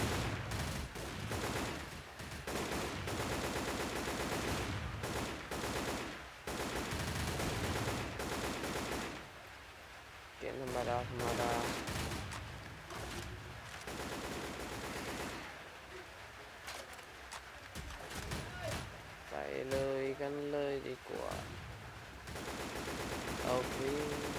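Dense, continuous gunfire from turrets in the video game SAS: Zombie Assault 3, rapid automatic bursts layered throughout with little pause, loud and close, with occasional game effects over the barrage.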